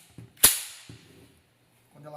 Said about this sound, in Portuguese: se não fizer o clique na posição correta, ela não dispara